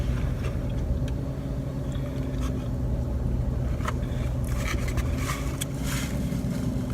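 A car idling with its air blowing, a continuous low engine rumble and steady airy hiss filling the cabin, with a few faint clicks and rustles on top and no voices.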